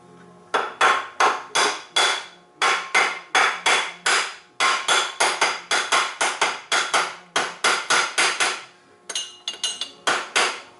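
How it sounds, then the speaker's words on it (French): A small plastic hammer taps an engine part down onto its dowel pins while reassembling a Rotax 500SS 600cc engine, a steady run of about thirty close, sharp knocks in quick bursts with brief pauses, no talk. "C'est là qu'un petit marteau de plastique"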